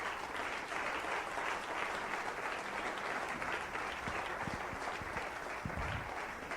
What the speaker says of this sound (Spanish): Darle un aplauso a Cristo, que Él se lo merece.